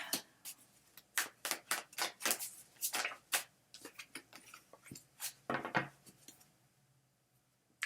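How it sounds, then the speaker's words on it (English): A deck of tarot cards is shuffled by hand in a quiet room, producing a rapid run of crisp riffling and slapping bursts that fade toward the end. "I shuffle till one card falls out"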